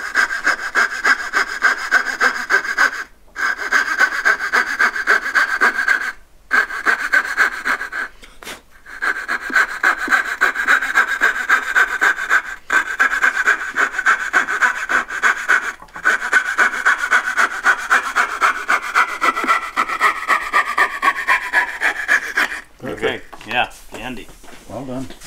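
A hand saw cuts dovetails in wood, with long runs of loud, close, rhythmic back-and-forth strokes broken by short pauses and a sharper scraping at the end.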